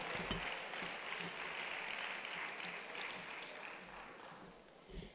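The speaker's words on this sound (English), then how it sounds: "A round of applause for her as she joins this panel" Applause from a conference audience welcoming a panelist onto a plenary stage, steady broadband clapping of moderate, slightly distant level lasting throughout.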